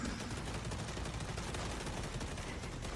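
Gunfire in the video game Gears 5 rattles in a dense, continuous fusillade of rapid shots, steady and fairly loud throughout, with no talking over it.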